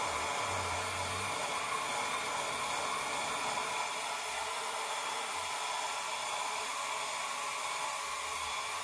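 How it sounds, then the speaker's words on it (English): A not-very-hot air dryer blows continuously while work is done on a fender bib for a Harley-Davidson, a steady close airy hiss with no talking. "Not a really hot air dryer."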